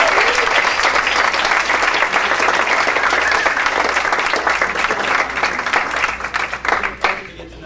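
An audience claps and cheers steadily for the band, a dense, loud wash of applause that carries on for several seconds before thinning out into scattered claps and crowd noise at the end.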